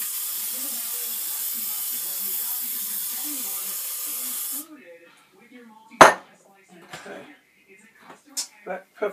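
Cooking oil sprayed onto catfish nuggets in a Power Air Fryer XL makes a steady, close hiss for about four and a half seconds, then stops and gives way to a few light clinks and handling knocks.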